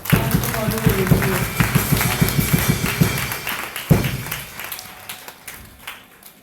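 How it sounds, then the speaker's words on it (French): A church congregation clapping in a quick rhythmic beat during a worship service, loud and close at first and then trailing off into scattered claps, with voices speaking over it. "Là, acclame le Seigneur pour ça."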